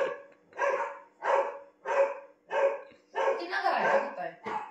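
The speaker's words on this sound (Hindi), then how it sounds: "कुत्ते भौंकते रहते हैं यहाँ पे" Dogs at the neighbouring houses bark in a steady series of about seven loud, close barks, evenly spaced with brief gaps and running together toward the end.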